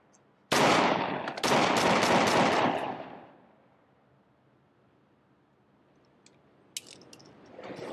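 Gunfire in a scene from the film Brooklyn's Finest: a sudden loud burst of rapid automatic shots lasting a couple of seconds, then decaying into quiet, with a few faint later clicks.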